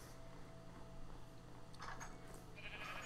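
Sheep in the video game Minecraft bleat a few times over a steady hum of game sound, with no talking heard.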